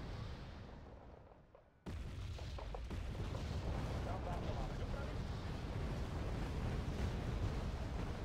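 Artillery fire support in the video game Wargame: Red Dragon, a steady rumble of distant booms and bursts after a brief quiet start, running continuously under occasional voices.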